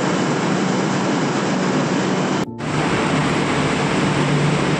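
A metro train at Dakshineswar metro station, heard as a loud, steady broadband roar of the moving train that runs through the clip, broken by one brief dip near the middle. No one speaks.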